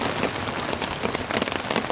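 Heavy rain pours onto a tent during a camping trip in a storm, a dense close patter of drops drumming on the fabric without pause.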